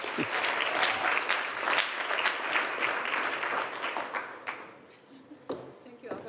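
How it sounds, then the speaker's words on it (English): Sustained applause fills the room from a large audience of ladies and gentlemen, dense and steady for several seconds before easing off into a few closing claps. "Round of applause, please, ladies and gentlemen"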